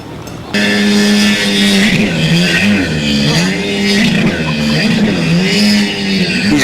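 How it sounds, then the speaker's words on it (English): Car engine with a misfire revving hard at close range, a loud droning roar that rises and dips unevenly in repeated surges throughout. "Got a little bit of a misfire in it, mate. It's misfiring, okay?"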